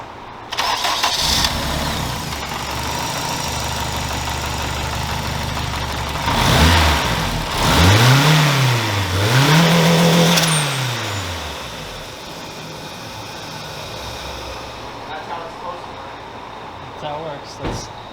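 Turbocharged Acura RSX with a CX Racing turbo kit cranks and starts, then revs twice in loud rising and falling swells before settling to a lower rumble and fading out.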